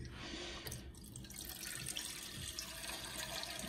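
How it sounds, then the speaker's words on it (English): Water from a tap runs and trickles into a soup pot of vegetables, a soft steady stream with faint dripping and no voices. "so adding some water now"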